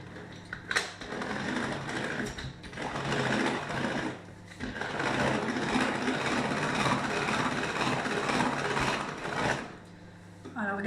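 A Speedy Chef electric hand mixer beats eggs and sugar, a steady high whirring drone that runs for several seconds, dips briefly twice as the motor changes direction, and stops near the end.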